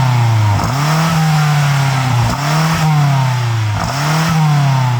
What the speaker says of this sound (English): Oh, but what about exhaust noise?